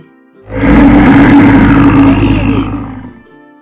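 A bear roars loudly as a story sound effect, a deep, rough roar that swells in, holds for about two and a half seconds and then cuts off, with no talking over it.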